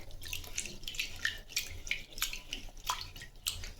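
Soaked green gram (moong) being washed in water, with soft splashing and dripping sloshes coming in irregular bursts close by, fairly quiet and with no talking.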